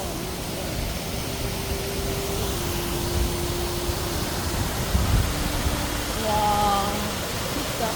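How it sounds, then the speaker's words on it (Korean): A steady broadband rush of falling water from a small waterfall along a fish-filled stream in Puerto Vallarta, Mexico, constant and moderately distant, with faint voices and a few brief tones over it. "이 폭포 같은 게 있구나"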